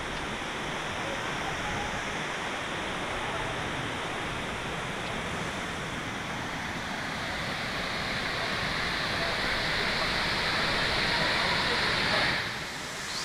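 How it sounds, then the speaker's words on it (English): Na Mueang Waterfall on Koh Samui, Thailand, roars as a constant broadband rush of falling water, loud and unbroken, swelling slightly near the end before a brief drop. "just taking in the power of the waterfall"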